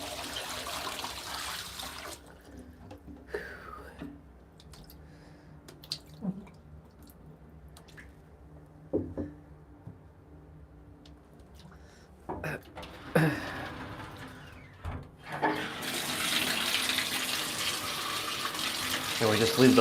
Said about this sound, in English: we just leave the pipe running for a little bit. Put our feet underneath.